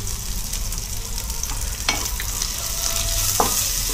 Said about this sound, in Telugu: ఇవన్నీ పచ్చివాసన పోయేవరకు వేయించుకోవాలండి